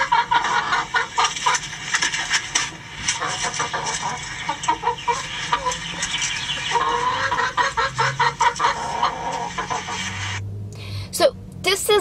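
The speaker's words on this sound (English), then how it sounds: "So this is the sound of a suspicious chicken." A suspicious grown chicken clucks in repeated short, uneven bursts, fairly close and loud, with a person talking intermittently over it.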